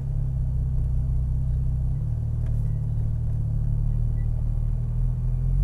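Porsche Cayman R pulling away in first gear on a track: a steady, close, deep engine rumble that shifts slightly lower partway through and continues at an even level.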